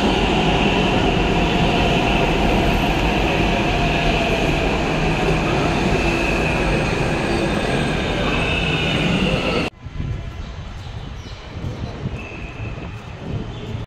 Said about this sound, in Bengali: একটা স্টেশনে আসলাম, এখান থেকে আরেকটা ট্রেনে চড়তে হবে,